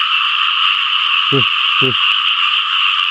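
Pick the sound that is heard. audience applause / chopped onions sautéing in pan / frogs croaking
frogs croaking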